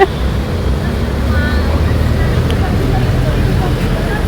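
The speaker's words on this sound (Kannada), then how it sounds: "ಕಿವಿಲೆಲ್ಲ ಹೋಗ್ತಿದೆ ಅಂತೆ ಅವಳಿಗೆ ಗಾಳಿ" Wind from a December cyclone storm rushes steadily into the microphone with a loud, constant roar that covers the whole stretch.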